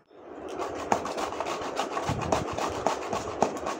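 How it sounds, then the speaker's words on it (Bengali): Vegetables grated by hand on a grater while making momos, heard as close, rhythmic rasping strokes repeating in a steady back-and-forth pattern. "এরকম করে ঘষে কাটতে হবে, একদম ঝুড়ি করতে হবে"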